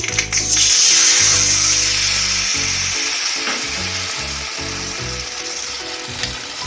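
Black mustard seeds frying in hot oil as a tempering for a fish-roe fritter tok, a loud crackling sizzle under an intermittent low electrical buzz, easing slightly after the first few seconds.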